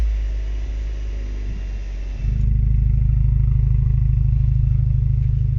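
A daily-driver car with a Stage 1 upgrade, bigger exhaust tips and a new downpipe, idles with a low drone that steps up into a louder, throbbing exhaust note partway through.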